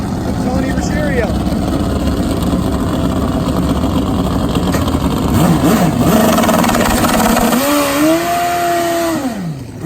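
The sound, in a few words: turbo drag bike racing against Nitro Harley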